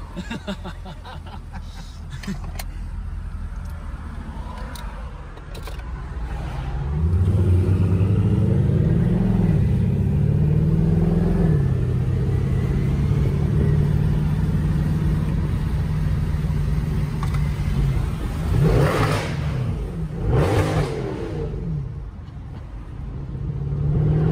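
A Mercedes C63 AMG W204 engine drones low and steady, swelling into a louder sustained roar partway through, with faint voices and chuckles around it.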